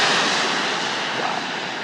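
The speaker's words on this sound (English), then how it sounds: "It's amazing this airplane holds together" An airplane performs at the Horizon Airmeet 2020 air show, producing a loud, steady, wideband engine roar that fills the whole moment without a break and is heard with no talking.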